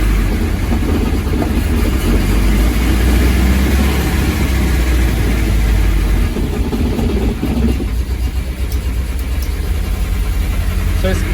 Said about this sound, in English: it's getting a bit of rattling at the back there when I'm going up